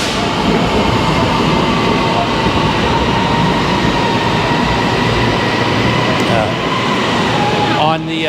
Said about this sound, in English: Train ke Ampang akan tiba.